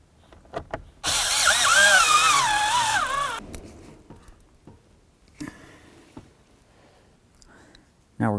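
A power drill whirs for about two seconds with a rising and falling pitch while screws are driven during combination switch replacement on a 1992-99 GMC K1500, followed by quieter clunks and handling, and another brief burst at the end.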